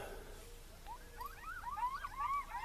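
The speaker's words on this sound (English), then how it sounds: "I've heard coyotes before at my house and never really been frightened of them, but these sound like they're less than 100 yards away down in that little gully" Coyotes howl and yip down in a small gully in open grassland, a chorus of rising, wavering wails that grows in the second half. Faint and distant-sounding over a low background rumble.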